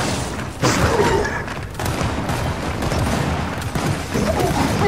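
Gunfire crackles in Gears of War 4 multiplayer on the Clock Tower map: dense, continuous rapid shots with occasional heavier thumps, loud and close throughout.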